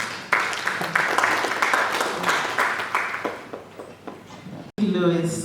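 An audience at a digitalisation workshop at Strathmore University applauds a keynote speaker with a short burst of clapping that fades over about four seconds, and then a voice begins speaking.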